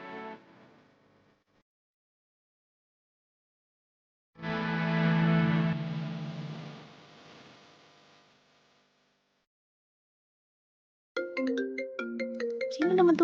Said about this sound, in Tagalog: Sino naman tong tumatawag?